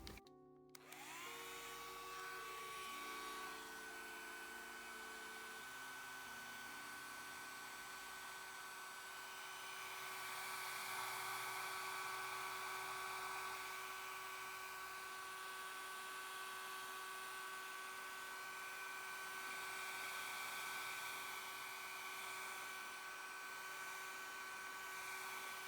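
A hair dryer whirs up and blows continuously onto cross-stitch fabric to erase grid lines, a steady motor hum with rushing air that holds for a long stretch, no talking.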